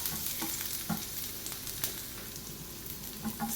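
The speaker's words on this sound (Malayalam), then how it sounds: "ജസ്റ്റ് ഒരു പച്ച ചുവ മാറുന്ന വരെ 1 മിനിറ്റ് ഒന്ന് ഇളക്കി കൊടുത്താൽ മതി" Garlic and green chilli sizzle and fry steadily in a pan while being stirred, with occasional soft scraping knocks from the stirring. No one speaks.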